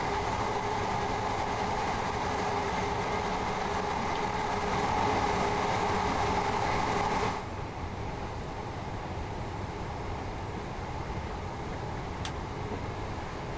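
A Class 375/9 electric train runs in Train Sim World 4, a steady rolling rumble and hum that drops to a quieter tone partway through, with a brief click near the end.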